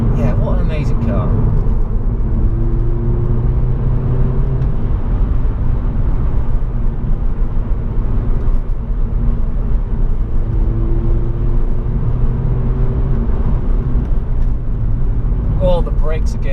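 A Volkswagen Golf GTI Mk6 hot hatch cruises with a steady, loud low engine drone and road rumble inside the cabin, the tone rising slightly in two gentle swells, continuous throughout.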